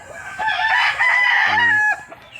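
A rooster crows loudly and close among many stag chickens, one long drawn-out call with a faint cluck or two around it and no talk.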